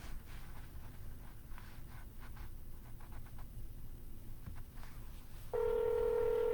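A phone dialing an outgoing real estate cold call, faint soft taps and clicks first, then a loud steady ringback or dial tone starting near the end.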